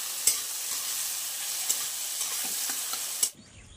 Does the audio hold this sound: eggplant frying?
yes